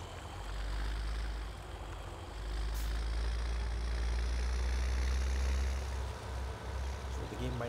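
A tractor engine in Farming Simulator drones steadily while pulling a load, a low, even rumble that swells slightly in the middle and keeps on without pause.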